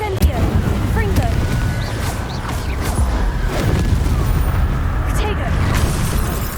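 Crackling blasts of the Confringo and Incendio fire spells from the video game Hogwarts Legacy erupt in quick succession as loud booms and bursts, with a voice shouting over the barrage.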